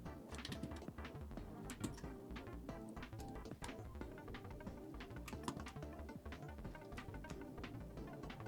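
Keys clack on a TyperActive Corne split mechanical keyboard fitted with an aluminum case, a quiet, rapid and continuous run of close typing strokes with no voices.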